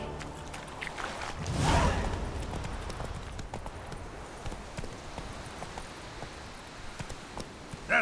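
Hoofbeats of Roach, Geralt's horse in The Witcher 3: Wild Hunt, a steady clip-clop of a trotting horse continuing throughout, with a brief louder whoosh early on and no talking.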